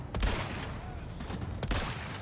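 Gunfire in the video game Resident Evil 4, a few sharp shots spaced over a couple of seconds against steady game background noise, fairly loud and close.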